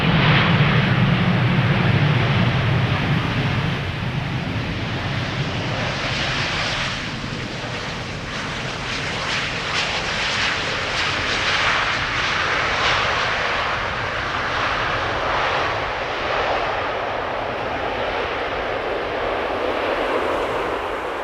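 An airplane landing at Amsterdam Schiphol Airport makes a loud, sustained engine roar that swells and then holds steady as it passes near, with a deep rumble beneath. No one speaks.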